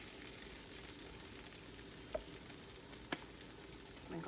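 French toast frying in a pan gives a faint, steady sizzle, broken by two brief sharp clicks as a slice is handled and a small rustle near the end.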